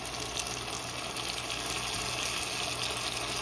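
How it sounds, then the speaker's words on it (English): Blended tomatoes for jollof rice pour into a cooking pot, a soft, steady liquid gush that continues without a break at a low volume, with no one talking. "Okay, I have blended up the tomatoes. I'm gonna go ahead and add it in here."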